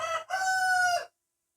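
A rooster crows once, close and loud, a short opening note followed by a long drawn-out call that ends abruptly into silence.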